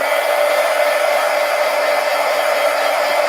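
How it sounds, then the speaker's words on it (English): Heat gun blowing hot air over an artwork, a steady, loud, close whoosh with an even tone that holds throughout without pause. "Let me hit this with the heat gun."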